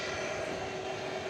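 A jet aircraft engine roars steadily at an airport at night, a constant loud broadband drone with a faint tonal whine and no pauses.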